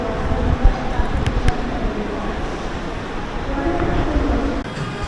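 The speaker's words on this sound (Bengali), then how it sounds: "ট্রেন ঢুকছে" A metro train pulling into a crowded station, a loud rumbling roar with a low rolling wash and a few brief squeaks and clanks, amid a busy platform murmur.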